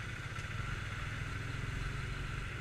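A TVS Apache RTR 180 motorcycle engine runs with a steady, continuous low rumble and hum, close and fairly even, with no voices over it.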